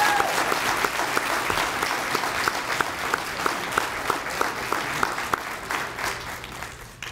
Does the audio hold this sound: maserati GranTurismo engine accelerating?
no